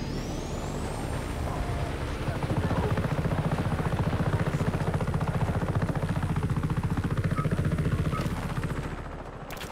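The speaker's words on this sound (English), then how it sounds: "News chopper." A news helicopter in a video game passes overhead with a steady, loud rotor chop and a whining turbine tone that hold throughout, then ease off near the end.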